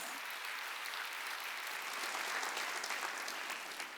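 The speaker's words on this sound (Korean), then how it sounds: "믿으면 박사야 박수치대" A church congregation at a Wednesday worship service claps together in sustained, even applause that fills the hall with dense, continuous noise for several seconds.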